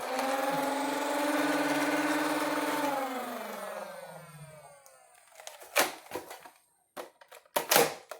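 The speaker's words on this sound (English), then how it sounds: "If you press and hold this button here, that activates the flywheel as you're hearing." A toy blaster's flywheel whirs with a steady mid-pitched hum for about three seconds, then winds down as the motor slows, followed by several short sharp clicks and clacks from the mechanism.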